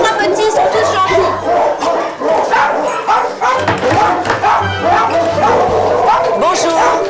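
Three small dogs yip and bark in repeated bursts close by, with whimpers mixed in, while people talk over them throughout.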